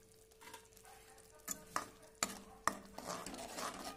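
Spice powders get stirred into a hot pan for aloo dum, quiet sizzling overlaid by a few distinct scraping strokes and light utensil knocks against the pan, close and unhurried.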